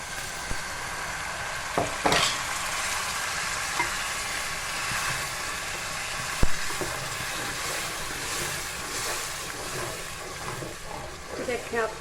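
Tomatoes go into garlic and onion frying in a pan, giving a steady broad sizzle with a few sharp clatters and stirring scrapes, close and continuous.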